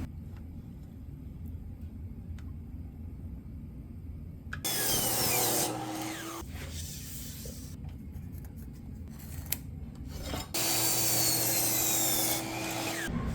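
Two loud bursts of a saw cutting wood frame pieces for a turkey poult enclosure, each several seconds long over a steady low background hum, close by with no talk.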